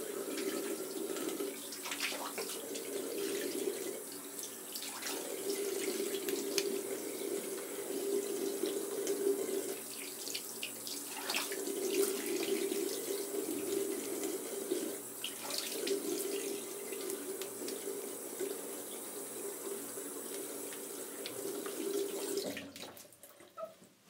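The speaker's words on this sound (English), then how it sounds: "I'll now wash my face off" Tap water runs steadily into a bathroom sink for face washing after a shave, a continuous close splashing hiss with brief interruptions as hands move through the stream, stopping near the end.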